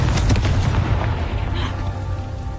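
A Confringo blast spell explosion in Hogwarts Legacy, a single heavy booming burst with a deep rumble that slowly fades over a couple of seconds, loud and close, with no talking.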